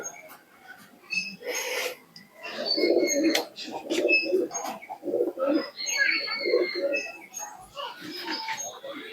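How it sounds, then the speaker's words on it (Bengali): Teddy pigeons cooing close by in repeated soft throaty phrases, with some chirps and a person speaking now and then among them. "খুবই সুন্দর কোয়ালিটির কবুতর রয়েছে।"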